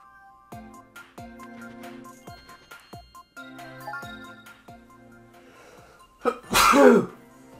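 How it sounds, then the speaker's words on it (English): A single loud, sharp sneeze bursts out near the end, following several seconds of bright, rhythmic music and chiming effects from New Super Mario Bros. U Deluxe gameplay. "I just sneezed."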